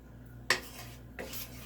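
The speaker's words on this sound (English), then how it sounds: "Stir that around a bit." A few sharp clinks of a utensil against a pan, with a fainter scrape following, close by and otherwise quiet.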